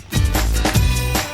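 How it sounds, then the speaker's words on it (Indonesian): Loud, harsh honking calls of a wreathed hornbill, repeated in a few rough bursts close by. "ini suara dari burung rangkong julang mas"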